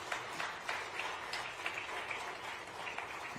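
An audience of the Indian diaspora in Japan applauds for Modi at an event with Madhya Pradesh CM Mohan Yadav, a steady wash of many hands clapping with sharp individual claps, moderately loud and without speech.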